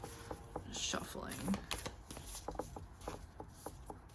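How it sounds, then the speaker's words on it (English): Hand-over-hand shuffling of a deck of oracle-style cards, a quick run of soft papery slaps and riffles in close, steady succession, with someone speaking quietly over it. "So a lot of times I'll just do like hand over hand shuffling."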